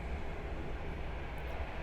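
A train passes outside as a steady, low rumbling wash that holds at a fairly even level throughout, muffled and distant rather than close, with no talking over it.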